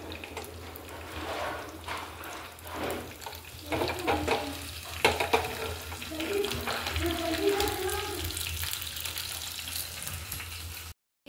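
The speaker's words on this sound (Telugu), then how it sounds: "దీన్ని కొంచెం 1 స్పూన్ ఆయిల్తో ఫ్రై చేసుకుందాము, పోపేసుకుందామండి" Curry leaves frying in a spoonful of oil in a pan for a Telugu-style masala ridge gourd dal, giving a continuous crackling sizzle with stirring clatter, close and fairly loud.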